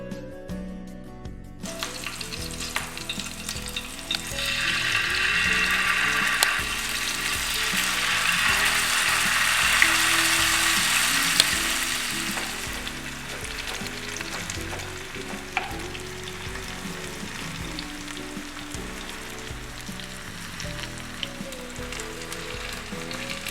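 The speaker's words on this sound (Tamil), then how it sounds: "மசாலா ரெடி பண்ணி வச்ச மீனை ஃப்ரை பண்ணி எடுத்துக்கலாம்" Masala-coated rock fish frying in coconut oil in a pan, a close, steady sizzle that swells louder for several seconds, then settles into a softer continuous crackle with small scraping sounds.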